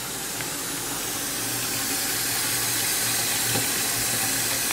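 Tap running into a pot to fill it with water for boiling noodles, a steady hissing pour that holds constant throughout.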